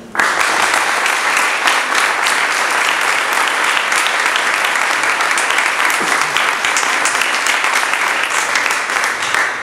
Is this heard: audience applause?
yes